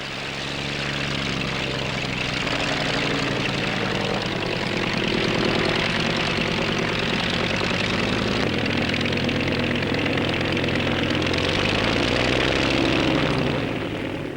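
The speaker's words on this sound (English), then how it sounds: "This is the Sierva Air Horse, a 24-seater helicopter powered by a Merlin engine." A Cierva Air Horse 24-seat helicopter's Merlin piston engine drones loudly and steadily, a continuous throbbing roar with no pauses or change in pitch, at the Farnborough Airshow.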